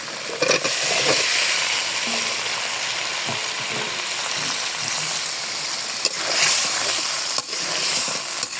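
Potato pieces and Malabar spinach stems drop into a frying spice paste, setting off a loud, steady sizzle and hiss with brief stirring scrapes, close up and with no voices.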